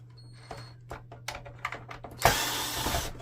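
Small screw being removed from the control panel of an Epson WorkForce Pro WF-3720 printer, heard as faint clicks and ticks followed by a louder, sustained gritty scraping burst near the end, close and quiet.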